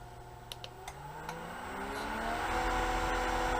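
Quiet, steady electric hum of a Black + Decker pool pump spinning up toward 2500 RPM, rising in pitch and volume with a few faint clicks early on.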